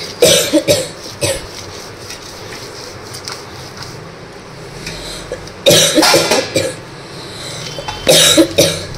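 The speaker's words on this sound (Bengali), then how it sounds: "মেয়ের কাশি হচ্ছে প্রচুর" A girl coughs in several harsh bursts, one cluster at the start, another around the middle and a last one near the end, loud and close over a faint background hum, with no talking.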